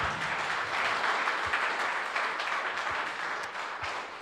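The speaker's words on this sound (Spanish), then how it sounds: "dale un fuerte aplauso al Señor" A church congregation applauds steadily, dense clapping sustained throughout at moderate volume.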